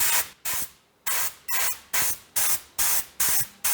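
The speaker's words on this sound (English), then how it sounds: "tone down that sharp red color by spraying over it with a little" An aerosol spray can lays top coat over red paint in a rapid series of about eight short, sharp hissing bursts, each cut off abruptly, close and loud.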